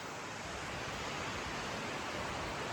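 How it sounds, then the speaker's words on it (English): Small waterfall in Skarðsdalur, northern Iceland, pouring in a constant broadband rush of falling water, loud and close with no other sounds over it. "If you like waterfalls, here's one for you."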